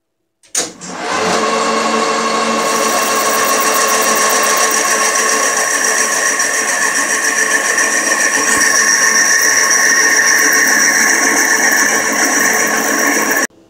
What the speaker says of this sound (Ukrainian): зараз будемо різати на заготовочки